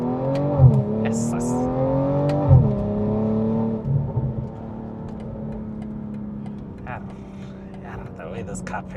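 A BMW M240i (G42) accelerating on the road, engine note rising in pitch through two quick upshifts and then settling into a steady cruise, heard from inside the cabin with people talking over it.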